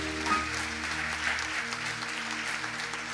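Congregation applauding during a Spanish-language church worship service: steady, dense clapping that fills the room, over low sustained musical tones.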